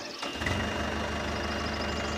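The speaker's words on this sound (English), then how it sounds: "Is that Todd on that tractor, really?" A tractor engine runs steadily at a modest distance, a low, even mechanical hum with a faint knock that carries on without a break.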